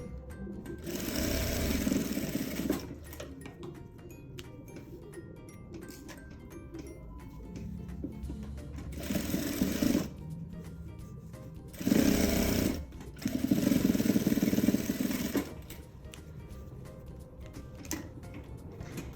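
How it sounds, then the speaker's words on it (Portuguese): Sewing machine stitching a seam across the top of a fabric maternity bag, with reverse stitching at the start and end; bursts of rapid mechanical whirring and ticking alternate with quieter pauses, close and steady. "E agora eu vou passar uma costura só na parte de cima, tá? Fazer um pezinho de máquina aqui com o retrocesso no início e no final."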